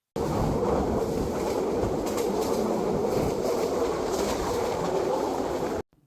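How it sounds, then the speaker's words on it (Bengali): A moving train near Sitakunda, Bangladesh, clattering along the rails as a steady, loud, close rumble mixed with heavy wind noise, running continuously with no talk until it cuts off abruptly near the end. "এখন জাস্ট ট্রেনের শব্দটা আপনাদের শুনাই।"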